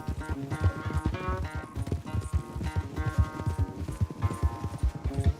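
Horse hooves galloping in Red Dead Redemption 2, a fast, steady clip-clop rhythm up close with continuous game ambience, no talking over it.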